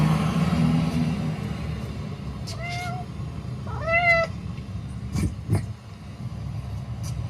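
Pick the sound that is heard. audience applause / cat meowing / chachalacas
cat meowing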